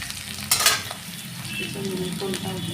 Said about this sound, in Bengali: তো চলো ভালো করে এটা ভেজে নিই।